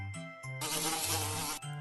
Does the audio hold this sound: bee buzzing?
yes